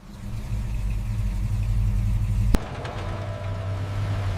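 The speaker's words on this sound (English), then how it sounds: "The straight six coughed once, then awakened with smooth, confident rhythm." A freshly restored straight-six engine in a 1957 Ferrari 335 S Scaglietti runs with a steady low rumble, broken by one sharp click midway before the smooth idle carries on.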